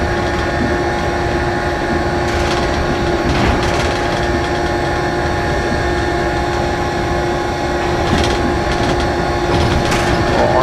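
A train running on railway track makes a loud, steady rumble with a droning hum, continuous and close, with occasional faint knocks over the track.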